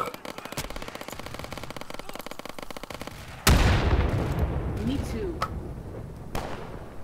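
Rapid bursts of gunfire in the video game Insurgency rattle continuously, then a louder, closer blast hits, followed by a few scattered single shots.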